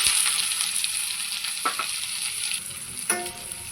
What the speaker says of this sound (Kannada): ಈಗ ಎಣ್ಣೆ ಬಿಸಿಯಾಗಿದೆ, ಅದಕ್ಕೆ ನಾನು ಈರುಳ್ಳಿನ ಸೇರಿಸ್ತಾಯಿದ್ದೀನಿ.